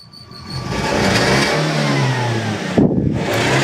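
A car engine runs steadily after a hydrogen carbon-cleaning treatment, a continuous close mid-pitched hum that swells slightly as it is revved, with a brief clatter near the end.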